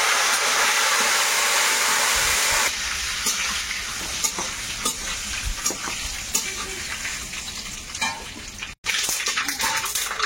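Loud, steady sizzling of dry red chillies and spices frying in hot oil in a wok, with occasional stirring scrapes; a brief drop near the end, no voices.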